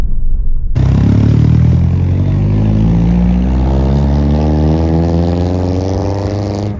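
Modified Mitsubishi Lancer, stage 2 tuned, revving hard after a brief silence, its engine note climbing steadily and loudly with crackling exhaust pops from the rear.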